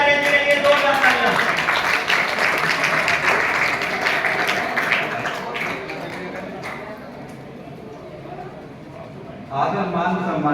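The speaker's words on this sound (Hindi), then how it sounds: "एक बार प्रधानाचार्य जी के लिए 2 तालियां।" At a school award ceremony honoring a principal, the audience claps in a steady, fairly loud round of applause that gradually thins, with a voice speaking over the start and a brief burst of clapping near the end.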